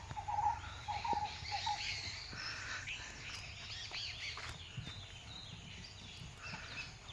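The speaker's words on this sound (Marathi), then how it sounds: "पक्ष्यांचा सुंदर आवाज" Birds call at dusk in rural Konkan, with faint scattered chirps and short whistles over a quiet, hissy outdoor background with low rustling.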